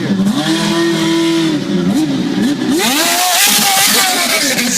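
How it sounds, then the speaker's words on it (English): A Penske PC19 race car engine fires up close by with a loud, rising roar that blips and climbs in pitch before settling into a rough, powerful note. "the sound I'm going to choose is the start of this Penske PC19"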